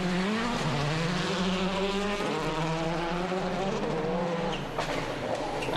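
Harri Rovanperä's Skoda rally car on a stage of the 2006 Rally of Turkey, its engine note rising and falling through gear changes as it passes close by, loud and continuous with a raspy, high-revving tone.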